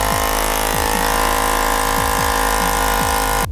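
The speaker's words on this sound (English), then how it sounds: "This is your Lexin P5 air pump." A Lexin P5 portable air pump inflating a motorcycle tire runs with a loud, steady mechanical drone and a regular pulsing beat close up, cutting off abruptly at the end.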